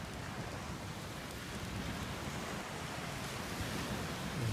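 Steady wash of surf rolling onto a Lake Michigan beach in South Milwaukee, a continuous broadband roar with no pauses, fairly close and uniform throughout, no voices.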